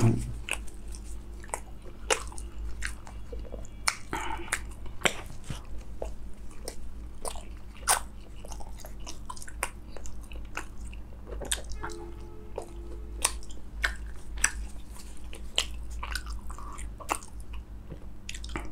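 Someone eating rumali roti dipped in spicy mutton curry gravy, with close, wet chewing and biting sounds repeating steadily, soft squishes between the bites, and no talking.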